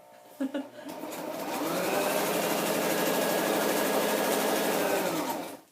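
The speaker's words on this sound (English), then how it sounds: "I almost think I want to do another row of machine stitching and around the photo" A sewing machine runs in one steady, continuous burst of stitching around a photo on a scrapbook page, close and loud after a couple of quick knocks at the start.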